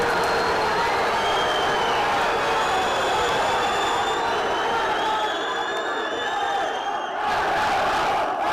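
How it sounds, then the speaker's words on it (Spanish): Bayern Munich club members shout and chant together at the club's annual general meeting, a dense, loud crowd roar that carries on without letting up. "Nosotros somos Bayern, ustedes no, gritaban los socios."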